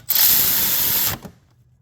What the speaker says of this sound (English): This was the 40 foot-pounds with a torque wrench